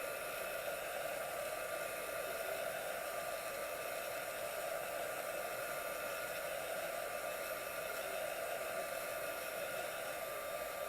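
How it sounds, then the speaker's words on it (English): A heat embossing tool blows hot air steadily to dry a layer of chalk paste, a constant close whooshing hiss with no pauses and no talking. "I use my embossing tool, and I'm just going to dry it."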